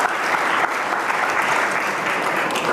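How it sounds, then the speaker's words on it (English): An audience at an arts and entertainment industry forum applauds loudly and continuously, a thick wash of clapping hands from start to finish. "Give a round of applause, please."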